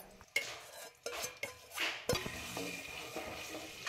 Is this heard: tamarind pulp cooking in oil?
yes